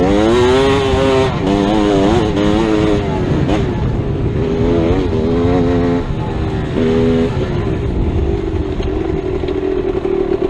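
A GasGas EC300 dirt bike engine runs loud and close while riding, its raspy two-stroke note rising and falling through repeated revs and throttle changes without a break.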